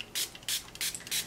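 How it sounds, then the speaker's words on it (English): A handheld spray bottle sprays a lace wig in four quick, evenly spaced hissing bursts, close and clear with brief pauses between. "So I usually try to spray two times in each area, like while I'm moving around the wig."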